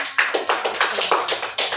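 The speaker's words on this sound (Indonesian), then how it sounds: "Tepuk tangan yang mana?" Hands clap alone in a rhythmic run of about nine crisp, close claps, evenly spaced and moderately loud, in a school classroom.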